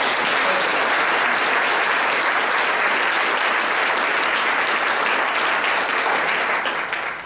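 A church congregation gives a big, dense round of applause that fills the room, steady and loud from start to finish before easing slightly at the very end.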